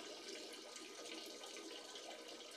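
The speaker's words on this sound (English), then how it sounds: "I'm pouring some water out into the sink" Water poured out into a sink that already holds water, a steady, faint, continuous splashing hiss with no talking over it.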